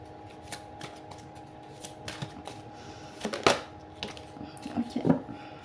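A deck of cards is cut and shuffled by hand, with soft papery flicks building into two brisk, close riffling bursts in an otherwise quiet room.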